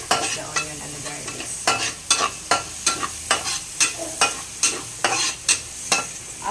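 Onions and garlic fry in a pan while a utensil stirs them in a steady rhythm: loud, close sizzling with regular scraping strokes about twice a second and no voices.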